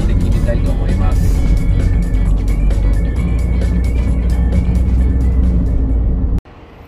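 A car cruises along the Tohoku Expressway, a steady, loud drone of engine and road noise with faint higher rattles. It runs unbroken for about six seconds, then drops off sharply.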